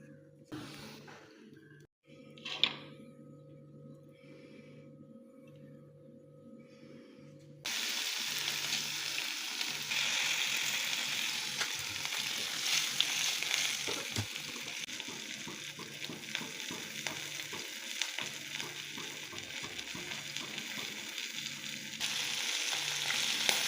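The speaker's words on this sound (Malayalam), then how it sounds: "എന്തായാലും ഒരു മത്തി പൊരിക്കുക" Loud, continuous sizzling of sardines frying in hot oil, starting quieter and then jumping up sharply, crackling steadily to the end.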